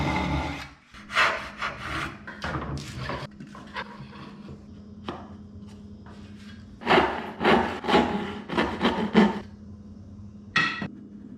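Hand tools rasping, tapping and rubbing on wood while a notch is cut into both ends of a side board for a tenon bench, in several bursts of scraping strokes separated by short pauses, close and clear.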